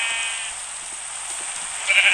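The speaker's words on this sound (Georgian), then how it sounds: "ყველაზე ლამაზი ცხვარი" A sheep in a hardcore-mode video game gives a short bleat near the end, after a fainter bleat at the start, over a steady hiss of game ambience.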